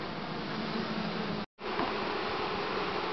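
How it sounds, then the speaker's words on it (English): A dense, steady hum of many bees buzzing close by in a hive built inside a wall, continuous apart from a brief dropout midway. "it's absolutely packed full of bees"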